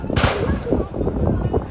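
A fireworks factory explosion sends out a string of booming firecracker pops, one loud early burst followed by rapid rumbling reports, with voices over the noise.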